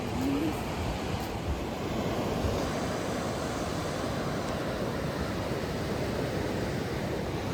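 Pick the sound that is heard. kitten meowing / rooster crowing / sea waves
sea waves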